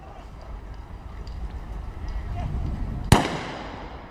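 A single sharp sniper rifle shot cracks out at a SWAT challenge range, a loud sudden report with a fading tail, heard over a low outdoor rumble and faint background murmur.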